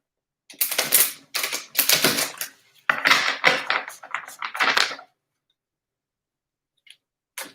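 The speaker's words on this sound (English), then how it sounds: "I need to give these a few shuffles here." Tarot cards being shuffled up close in several quick riffling bursts, each a papery flutter, followed by quiet and a couple of soft taps.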